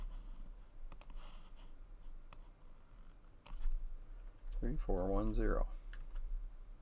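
Keyboard typing while entering a product search code for a word processor, heard as scattered sharp clicks spread through the stretch, with a short burst of speech near the end.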